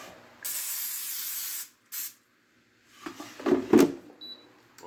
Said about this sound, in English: It says to spray some olive oil in there.